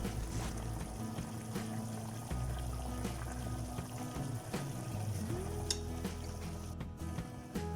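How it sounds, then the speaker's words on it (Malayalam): Beetroot frying in a pan with chicken gives a constant, fairly loud sizzle with faint utensil clinks scattered through it, and no one speaks. "ഇനി ഇതിലേക്ക് നമ്മൾ ബീട്രൂട്ട് ചേർത്ത് കൊടുക്കണം."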